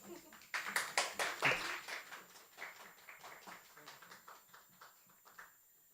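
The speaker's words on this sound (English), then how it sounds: "Let's give a round of applause to Sehba Sarwar." Applause from a book-launch audience greeting a poet, starting as a burst of claps and thinning to scattered, fading claps over about six seconds.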